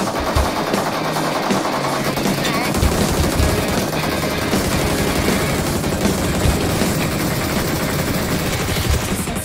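Loud automatic gunfire rattles almost without pause through a battle royale video game firefight in the final circle, rapid bursts stacking into a dense, continuous barrage with a few faint voices underneath.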